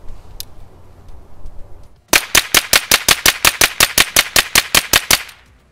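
A Stribog SP9A3G fed from a Magpul 17-round magazine fires about fifteen sharp, loud shots in a quick, even cadence at an outdoor range, following a few seconds of quiet background.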